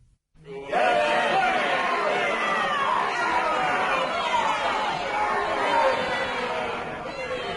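Hostile crowd chattering in a courtroom: dense overlapping babble of many voices rises abruptly after a moment of silence and holds loud and steady throughout, with no single speaker standing out.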